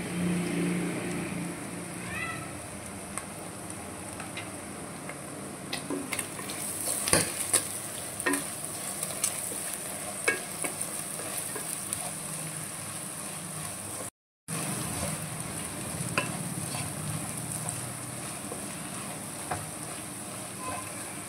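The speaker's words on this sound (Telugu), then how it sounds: "ఒక 2 minutes ఫ్రై అవ్వాలన్నమాట" Mutton frying in a pan with coconut powder and garam masala, a continuous sizzle broken by repeated scraping stirs and small clicks, with a brief dropout midway.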